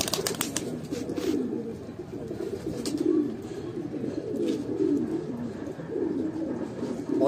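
In a Bhopal pigeon loft holding Kalsare, Golden Bajre and Lalsare birds, a continuous flock of close, throaty coos rises and falls in waves, with light clicks and scratches mixed in.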